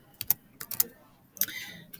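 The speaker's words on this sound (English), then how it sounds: "make sure you're typing in the right number of zeros" Numbers being tapped on a keyboard or calculator, a few quick sharp clicks in small clusters, close and fairly quiet.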